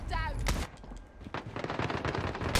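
Gunfire in Call of Duty Modern Warfare during a Gun Game match comes as sharp bursts of rapid shots mixed with brief impacts, fairly close and loud, with a voice speaking between them.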